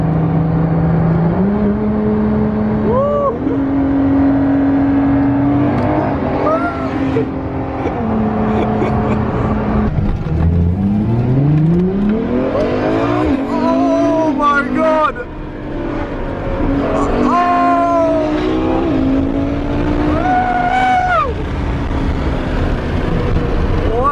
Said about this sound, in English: Bugatti versus LaFerrari.